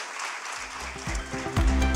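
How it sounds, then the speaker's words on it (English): Audience applause for the ADB at a conference session, a scattered clapping burst that starts after half a second and swells louder toward the end. "A round of applause for the ADB"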